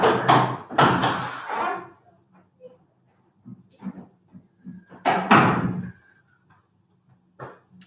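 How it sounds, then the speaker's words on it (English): Someone shuts a door in a room during a live online lesson, giving a couple of solid knocks and thuds followed by quieter shuffling and handling noises, close by. "I'm going to just go and close the door as well so I don't make a noise."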